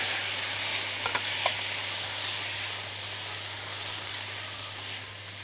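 Peppers, tomatoes, onion and garlic sauté in a pan with a steady close sizzle and hiss, a few brief clinks of stirring early on, and no voices.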